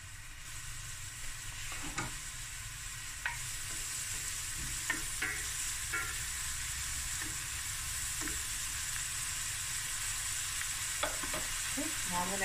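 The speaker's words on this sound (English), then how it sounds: "So I'm going to add my curry leaves." Curry leaves crackle and sizzle in hot oil for a prawn and coconut cream curry, a steady close frying hiss with scattered pops and occasional stirring scrapes, no talking.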